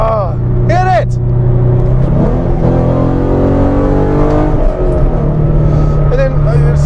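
A modded 3.7 car accelerates hard on an on-ramp, its engine note rising in pitch through a gear and surging loudly up close, with someone talking over the engine noise.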